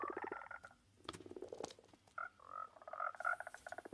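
Frogs in a video game sanctuary croak repeatedly in close, overlapping bursts with chirpy, warbling calls, forming a busy, fairly loud chorus and no talk over it.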